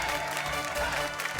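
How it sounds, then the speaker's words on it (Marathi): Loud, steady applause from a studio audience at a Marathi TV show, continuous clapping filling the whole moment without a break. "एकदा जोरदार टाळ्या होऊन जाऊ दे."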